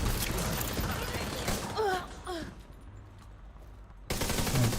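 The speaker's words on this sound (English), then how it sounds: "Firing on target." Gunfire in the video game The Division, a dense burst of rapid shots through the first two seconds, then fading as a voice talks, with another loud burst returning near the end.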